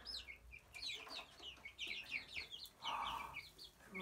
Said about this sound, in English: You like the chickens?